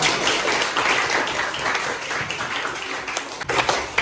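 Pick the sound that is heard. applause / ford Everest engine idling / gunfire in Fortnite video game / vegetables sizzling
applause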